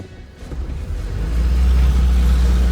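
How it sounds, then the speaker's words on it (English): A Ford Pinto engine running on Jack Daniel's is floored to full throttle, its low mid-pitched roar swelling steadily over a few seconds into a loud, sustained rev close by. "Let's floor it here, see what she does."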